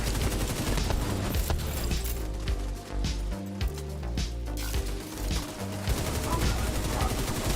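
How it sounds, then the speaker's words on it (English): Dense, continuous gunfire from a shooter video game, The Division, with bursts of automatic fire and scattered impacts rolling on throughout, loud and close under a steady music bed. "I'm getting shot at, people in a shooting game."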